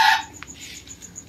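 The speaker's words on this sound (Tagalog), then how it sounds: "Oh, yan. Yung mga manok ko." A chicken gives a brief cluck near the start, close and moderately loud, followed by faint fowl calls against a quiet morning background in the Philippines.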